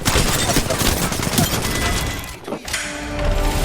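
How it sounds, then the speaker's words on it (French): Dense rapid gunfire in the video game Apex Legends, loud and continuous with thuds and impacts, dropping out briefly before resuming with ringing tails. "J'essuie des tirs."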